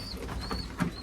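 Homing pigeons coo in a loft during watering and feeding, a soft low burble that swells briefly near the end over a faint hiss of ambient noise.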